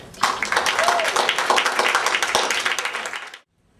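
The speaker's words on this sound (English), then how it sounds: "one more big round of applause" A school crowd at a debate team event applauds with dense, steady clapping for about three seconds before it cuts off abruptly.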